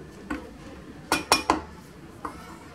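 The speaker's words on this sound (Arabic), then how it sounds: "غادي نحرك مزيان كريم باتيسيير" A spoon stirs pastry cream in a bowl, giving a few sharp metallic clinks against the bowl, three close together in the middle and softer taps before and after, in a quiet room.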